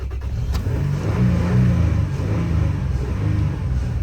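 A Toyota Tacoma 4.0L truck engine that dies after starting turns over and revs a couple of times, a mid-pitched rumbling roar swelling and easing, close by with no talking.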